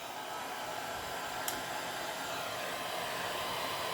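A heat tool blows a steady, hissing stream of hot air over an alcohol ink art journal page, a constant airy whoosh held at even volume with one tiny click partway through.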